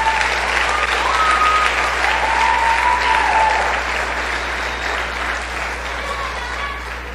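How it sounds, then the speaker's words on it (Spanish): Steady congregation applause fills a church service, sustained and fairly loud throughout, with a few faint tonal whistle-like sounds drifting over the dense clapping. "que le pueda dar un aplauso al Señor"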